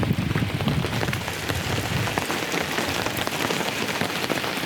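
Rain patters steadily and densely onto a camping ground tarp riddled with holes, a close, continuous hiss of drops with no voices.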